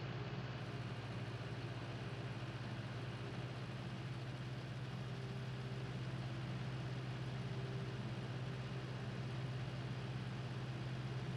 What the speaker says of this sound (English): Tractor just bombs up the hill.